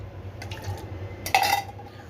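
A little water poured into roll patti batter in a bowl, a short splashing trickle with a faint clink of dishware, close and fairly clear over a low background hum.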